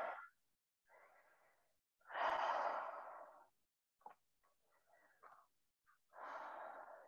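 Slow, deep breaths during a full-body stretch, long airy inhales and exhales repeating close to the mic, separated by quiet pauses and a few short breathy catches.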